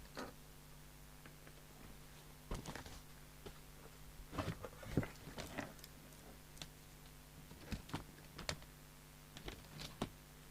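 Fingers tap the touch-control keyboard of a Maxon CM70 CB radio, producing scattered soft clicks and taps in irregular bursts over a steady electrical hum.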